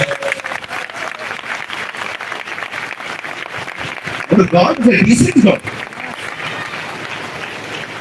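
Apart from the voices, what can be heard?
church congregation clapping for Jesus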